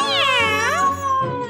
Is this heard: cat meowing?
yes